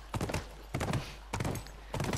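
A horse's hooves clip-clop in steady groups of beats during a ride in The Last of Us video game, at a moderate distance and fairly faint.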